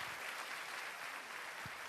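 Audience applause greeting an artist's entrance on a Georgian television show, a dense, steady wash of many hands clapping, moderately close and sustained throughout.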